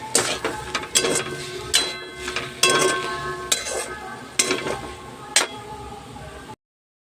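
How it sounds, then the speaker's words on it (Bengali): A spoon stirs a mixture of flour, mashed potato, salt and a little sugar in a bowl, giving repeated scraping and clinking strokes in an irregular rhythm, close and clear, with no talk. "এরপর আমি এটাকে নেড়ে ভালো করে মিক্স করে নেব"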